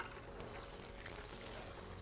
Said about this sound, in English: Spray them with the hose